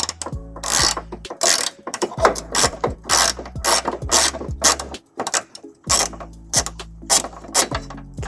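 A socket ratchet removes a 14mm bolt from the tow hook of a 1998 Subaru Forester, a loud, close, rapid clicking in repeated strokes with short pauses.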